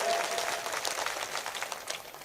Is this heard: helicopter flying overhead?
no